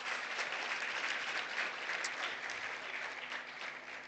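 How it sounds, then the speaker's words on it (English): Steady applause from an audience in a forum hall, a dense even clatter of many hands clapping continuously and fairly close throughout, with no talk over it. "let us clap for our generous hosts."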